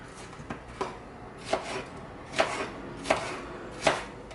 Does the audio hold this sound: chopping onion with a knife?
yes